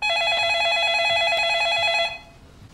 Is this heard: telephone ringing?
yes